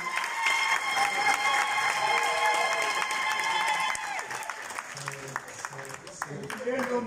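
Audience applause at a university conference debate in Brussels, loud and dense from the start, thinning toward the end as scattered claps and crowd noise remain, with voices mixed in.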